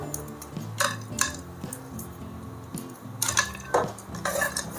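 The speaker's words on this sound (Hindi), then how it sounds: "इसको अच्छी तरीके से मिक्स कर लेंगे।" Cashew pieces being stirred into a warm pan for a parwal sweet, with a spoon clinking and scraping against the metal in short bursts, close and fairly quiet with no talking.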